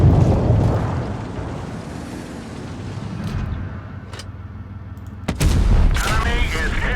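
Heavy cannon blasts and rumbling battle noise from World of Tanks Blitz with a TS-5 tank destroyer, a loud sustained roar fading mid-clip, a sharp report near five seconds, then another big thump and rumble.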